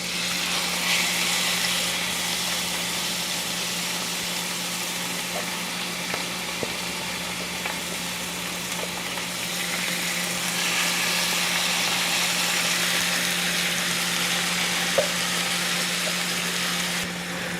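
Onions fry in oil in a hot pan, a steady broad sizzle that runs unbroken and fairly loud, with faint clinks and scrapes now and then.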